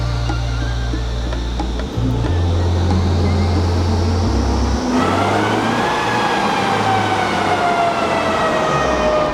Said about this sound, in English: Always got to do a roll test when you get a car on the dyno.